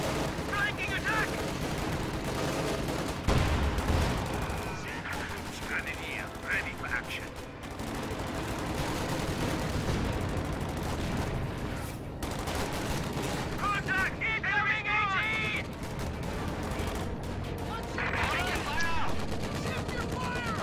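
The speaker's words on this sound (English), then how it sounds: "M20 firing at Rifleman." An M20 armored car fires at riflemen in a World War II strategy video game, with steady gunfire bursts and distant explosions layered over busy battle noise, heard at a fairly low level throughout.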